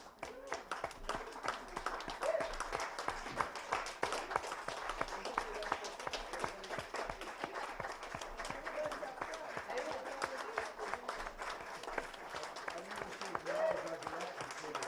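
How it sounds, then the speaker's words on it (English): An audience claps for the young actors of a children's church pageant, sustained hand clapping with distinct individual claps standing out, steady throughout and fairly close. "Now, if I can have our actors come up one more time for a huge round of applause."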